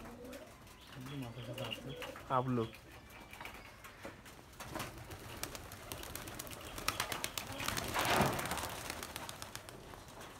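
Pet pigeons kept at a house give several close, throaty coos early on, followed by rustling and bird noise as people chat nearby.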